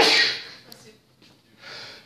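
A single sneeze from a lecturer during a physics lecture bursts out at the start with a hissing rush, followed by quiet breaths and a soft exhale near the end.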